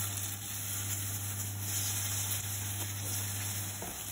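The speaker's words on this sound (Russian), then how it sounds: "Разогретую сковородку смазываем растительным маслом и начинаем жарить нашу курочку." Chicken cutlets fry in a heated pan greased with vegetable oil, giving a steady, close sizzle with a continuous hiss and no talking.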